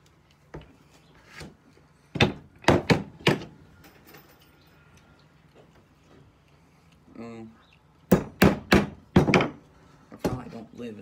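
Hand drill boring into a clamped log, heard as scattered sharp wooden knocks and scraping rasps with quiet gaps and a short grinding run, close and moderately loud with no talk.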